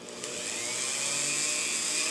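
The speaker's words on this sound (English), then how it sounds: "I'm going to cut that out, and with the Dremel tool, let me see how it works." A Dremel rotary tool cuts into an engine mounting on a NexStar telescope, giving a steady, loud high-pitched whine that holds for the whole stretch without pause.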